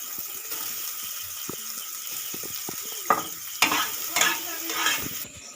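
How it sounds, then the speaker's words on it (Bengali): Soybean chunks sizzle in hot oil in a pan while a spatula scrapes and stirs, with sparse taps at first and then louder bursts of frying, close and without voices. "এরপর সেই তেলের মধ্যে সয়াবিনগুলো একটু ভেজে নেব।"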